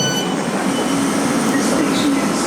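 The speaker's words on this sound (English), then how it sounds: "the Thames Link now coming into view, which is going to take me up to Swanley" A Thameslink train bound for Swanley rolls into a station, a loud steady rumble of wheels and motors with a faint squeal threading through it.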